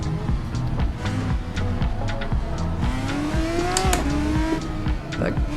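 An F3 race car engine screams continuously in Assetto Corsa on the Pau street circuit, revving up and down through gear changes with brief tire squeal, loud and close from the driver's seat.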